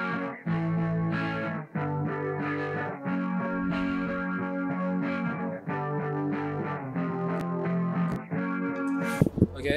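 Distorted electric guitar chugs through a power chord progression, each chord ringing loud and sustained with brief breaks between changes, played alone.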